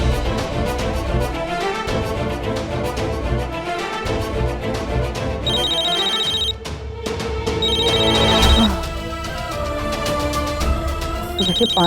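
A phone ringtone chirps in repeated bursts under a dense layer of background music in an indoor drama scene, the ringing fairly clear and steady through most of the stretch.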